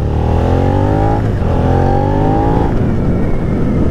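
A Suzuki SV650 motorcycle with an aftermarket exhaust drones and rises in pitch as it accelerates, with a deep, throaty exhaust rumble throughout.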